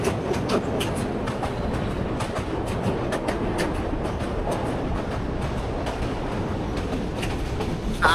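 A train runs on rails toward Bhairab Bazar with a steady close rumble and repeated clickety-clack wheel beats, heard alone at a loud level.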